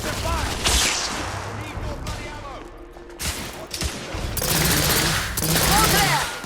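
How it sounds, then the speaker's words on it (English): Suppressive gunfire in The Order: 1886, bursts of rapid shots and sustained volleys from several weapons, loud and close, with shouting voices mixed in. "Lay down suppressive fire!"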